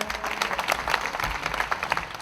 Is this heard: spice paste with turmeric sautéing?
no